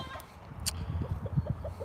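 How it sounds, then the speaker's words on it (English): Bantam chickens clucking at a backyard coop, a run of soft, short clucks repeating in a loose rhythm at close range, with no one talking. "I have the bantams in this one"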